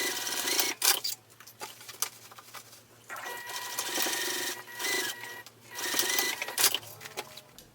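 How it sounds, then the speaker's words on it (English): A sewing machine stitches the seam of a cosmetic pouch, close and steady whirring in several bursts separated by short pauses, with a low motor hum underneath and faint handling noises between runs. "I'm just going to sew directly on the line that I already sewed"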